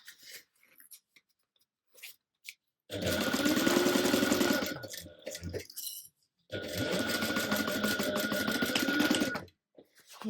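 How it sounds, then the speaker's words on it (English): A sewing machine stitches lining pieces together with a 3/8 inch seam allowance in two long, fast, steady whirring runs separated by a pause with small handling clicks, heard up close. "match these up and sew them together with a 3/8 inch seam allowance"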